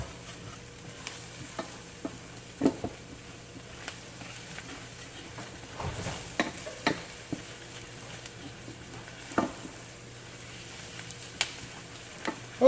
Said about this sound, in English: You want to continue stir this for about 3 minutes. Cook the flour out.